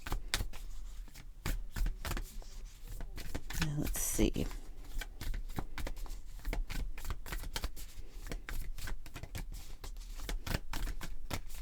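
Close, continuous riffling and snapping of a deck of cards being shuffled, with a brief soft remark from a voice partway through.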